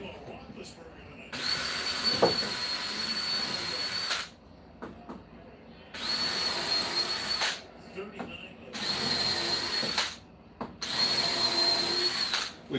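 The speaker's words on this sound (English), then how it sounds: "We pre-drill the holes so that way it doesn't split it." Power drill pre-drilling holes in wood, running in three long whining bursts of about three seconds each, separated by short pauses with quiet shop noise.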